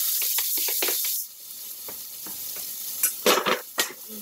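Garlic, onion and cilantro frying in olive oil in a pan, a dense hiss that drops to a quieter sizzle, with clattering stirs and utensil knocks near the end, close up.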